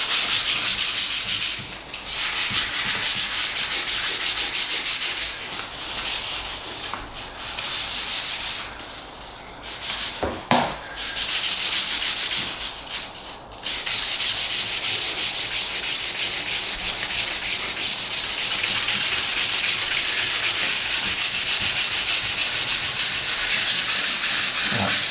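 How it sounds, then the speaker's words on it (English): Steady abrasive sanding of set concrete filler on an OO gauge model railway dock, a continuous close rasping rub that pauses briefly a few times before resuming and running on alone. "I'd say it's solid enough now to do a little bit of sanding down, try and get rid of some of these imperfections."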